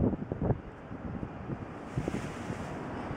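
Strong wind buffets the microphone in low rumbling gusts, loudest at the start, with a steady rushing noise throughout.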